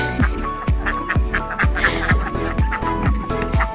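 Ducks quack over and over in a steady, evenly spaced series, close and fairly loud, at a rainforest retreat in Hulu Langat, Selangor.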